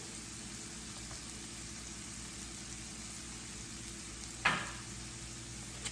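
Onions frying in a pan for a shrimp and mushroom sandwich, a steady soft sizzle running throughout with a brief louder clatter near the end.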